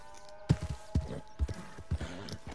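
Horse hooves in Red Dead Redemption 2 beat out a steady gallop, four heavy thumps about half a second apart, moderately loud over a low, constant game background.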